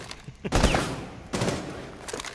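Gunfire aimed at a battery in Rainbow Six Siege during a Bank hostage match, with two or three loud, sharp bursts of shots spaced about a second apart and some background noise between them.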